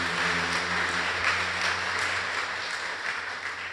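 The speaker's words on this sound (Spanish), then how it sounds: "Un aplauso para ellas" Sustained applause from a church audience, even and fairly distant, with a low steady hum underneath.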